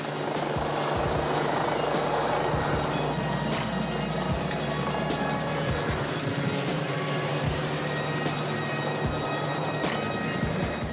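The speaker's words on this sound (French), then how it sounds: "cette opération d'hélitreuillage est particulièrement risquée" Rescue helicopter hovering over Réunion during a winch hoist operation, a loud, steady rotor thump and turbine whine filling the whole stretch without pause.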